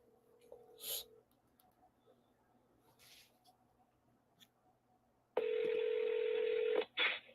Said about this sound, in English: I'm going to make one last phone call.